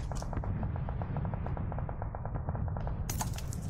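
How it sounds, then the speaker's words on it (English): Rapid automatic gunfire from a multiplayer shooter video game rattles in a steady, close, loud burst of evenly spaced shots, with a brief sharper crack near the end. "that gun's going ham"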